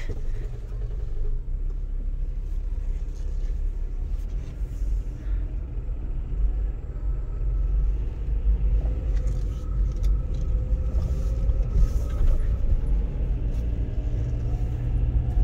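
A car driven on a road test after a catalytic converter clamp install, its engine and tyre rumble steady and close throughout, with no one speaking.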